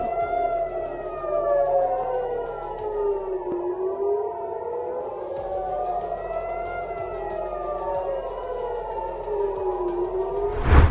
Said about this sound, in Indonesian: Serangan ini memicu sirine peringatan di seluruh Israel